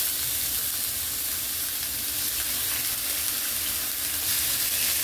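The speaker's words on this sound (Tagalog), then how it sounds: "Lagay natin ang ating meat. Have to fry it a bit." Meat for bistek fries in a pan, giving a steady, loud, broadband sizzle that holds without a break, with no voices over it.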